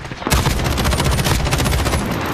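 Rapid automatic gunfire in a PC first-person shooter match, a dense, loud burst of overlapping shots that runs continuously for a couple of seconds.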